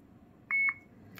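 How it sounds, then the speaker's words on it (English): A GHOST XL DRIFT adventure riding helmet camera powering on gives a single short, clear electronic beep, followed by a faint click against a quiet background. "Right, got one beep."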